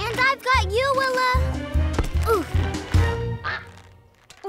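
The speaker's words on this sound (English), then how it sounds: "How much trouble can a little duck get into?" A small animated duckling quacks repeatedly in bright, squeaky bursts, close and lively, with a voice speaking briefly among the calls in a kids' cartoon.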